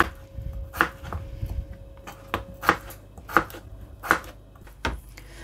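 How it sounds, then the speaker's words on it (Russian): A knife chops potatoes into small pieces on a cutting board with about seven sharp, close strikes at an uneven pace. No one speaks. "На небольшие кусочки нарезаем 1 килограмм картофеля"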